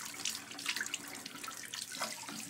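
Cold tap water runs steadily to rinse dirt from the crevices of a window air-conditioner filter, a soft, continuous splashing and trickling, close by and fairly quiet, with no talk.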